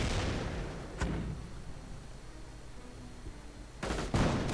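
Mortar fire in a World War II tank and artillery video game, American and German mortars: a few heavy, booming impacts, one near the start and a pair near the end, over a rumbling battlefield background.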